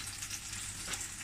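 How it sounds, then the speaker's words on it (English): Tofu sizzling in sesame oil in a hot non-stick frying pan gives a steady, faint, hissing crackle with no voices. "You can test whether it's hot enough if it sizzles a bit. Right, so that's just sizzling."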